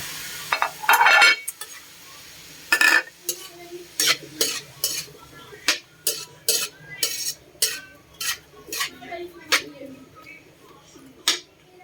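Tomatoes are added and stirred into tilapia cooking in a pan, making a run of sharp utensil scrapes and clacks in a steady, uneven rhythm over a faint sizzle, close and fairly loud.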